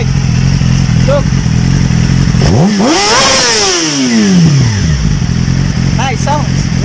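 A 2019 Yamaha YZF R6 Limited Edition sport motorcycle passes by with a rising then falling engine pitch, loud and close, its revving sweeping through as a clear drive-by over steady background noise.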